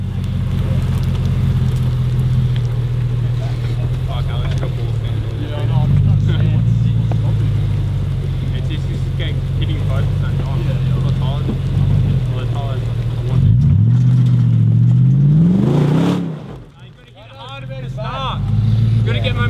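A 4WD engine rumbles and revs on a rough off-road track, a steady low drone that surges and then briefly cuts out near the end, while people talk inside the cabin.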